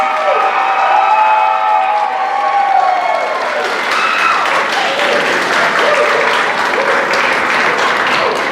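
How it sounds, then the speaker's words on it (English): A crowd at a high school choir spring concert applauds graduating seniors, loud sustained clapping and some cheering filling the hall, with voices and tonal sounds from the stage fading under the applause early on. "Let's give one big round of applause to our seniors."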